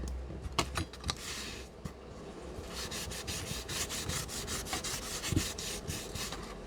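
Close, steady rubbing and scratching of sandpaper across a glossy mixed-media journal page, with a few sharp ticks near the start and then continuous rasping strokes.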